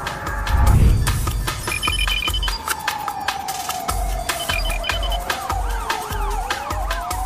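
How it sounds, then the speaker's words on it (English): Police car sirens wail through a city street, rising and falling sweeps over a busy background with a low rumble and sharp intermittent clatter, moderately loud and continuous. "If you've been hearing police sirens in your neighborhood"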